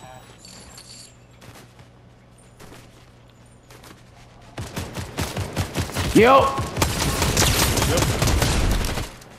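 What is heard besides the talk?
gunfire in video game Fortnite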